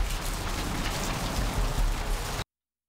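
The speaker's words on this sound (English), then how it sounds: "It's raining!" Steady rain pours continuously in the video game Vampire: The Masquerade - Bloodlines outside Santa Monica Suites, a dense, even hiss heard alone, close and moderately loud before cutting off abruptly.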